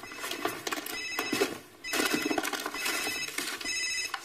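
A mobile phone rings with a bright, repeating electronic ringtone that plays in loud, continuous bursts with a brief dip midway.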